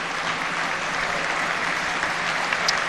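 A football stadium crowd at Chesterfield versus Gateshead gives a steady, sustained round of applause for a late lifelong fan, a dense continuous clapping that holds evenly throughout with no voices above it.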